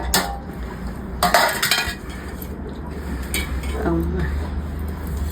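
Hot rice being mixed with avakaya mango pickle in a bowl, with scraping and clinking of utensil against the dish in short bursts, under a steady background hum.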